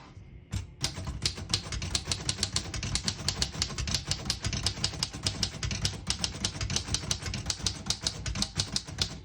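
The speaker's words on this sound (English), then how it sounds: "It's got that really nice glossy black finish, and the sound of it is unlike any other typewriter." Someone types on a glossy black 1935 Royal O Model portable typewriter. Close, crisp keystrokes clack in a fast, even rhythm for the whole stretch, with no talking.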